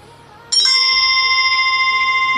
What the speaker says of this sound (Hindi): देखो ऊपर नोटिफिकेशन भी आ गया।